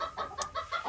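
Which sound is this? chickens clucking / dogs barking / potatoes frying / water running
chickens clucking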